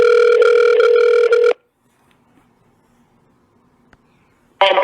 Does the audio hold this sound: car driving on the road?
no